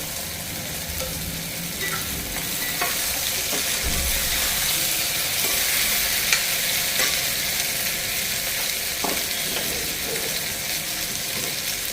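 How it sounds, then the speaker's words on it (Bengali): Onions with green chilies and tomato frying in a pan for a Bengali home-cooked chital fish dish, a steady loud sizzle with occasional stirring scrapes and clinks throughout, no talking. "পেঁয়াজটা ফ্রাই হয়ে গেছে এখানে কাঁচা লঙ্কা টমেটো"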